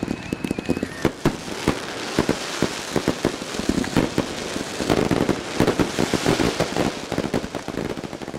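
Fireworks go off at the finale of a Wild West show in a dense run of sharp cracks and pops. The bursts come irregularly over a continuous crackle, loud and sustained.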